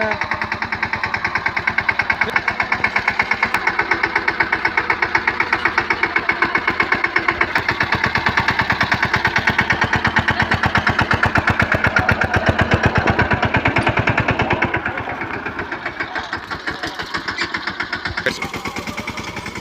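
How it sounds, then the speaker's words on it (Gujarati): A tractor engine runs in a lemon orchard, a loud, close and steady chugging with a rapid regular beat and no talk, easing slightly near the end. "જે ટ્રેક્ટર હાંકી રહ્યો છે"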